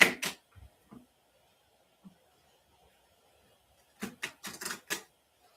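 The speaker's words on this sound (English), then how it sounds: "So I shuffle this." A deck of tarot cards is riffle shuffled, with quick fluttering bursts of cards snapping together in two clusters, close and crisp with quiet gaps between.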